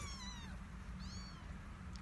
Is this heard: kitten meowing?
yes